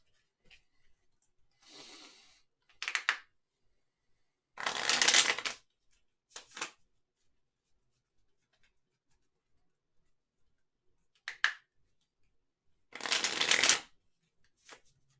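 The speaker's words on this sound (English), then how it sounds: "Let's do more of this shuffling because these cards are kind of stiff." Stiff tarot cards being shuffled on a table in several separate riffling bursts, close and crisp, with quiet pauses between them.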